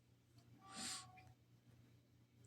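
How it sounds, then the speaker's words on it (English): A single cat meow, short and fairly faint, rising out of a quiet room with a low steady hum behind it. "That's not normal for my cat's meows"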